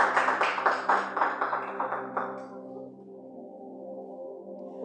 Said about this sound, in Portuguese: palmas para Jesus, irmãos